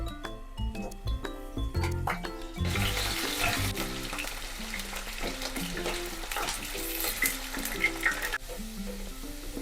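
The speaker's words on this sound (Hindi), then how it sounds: "अब हम इसमें ये कटे हुए आलू ऐड करेंगे।" Cut potatoes hit hot oil in a pan, bursting into a loud, crackling sizzle after a few clinks, then settling into a steady bubbling fry.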